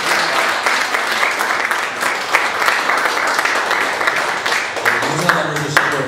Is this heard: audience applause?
yes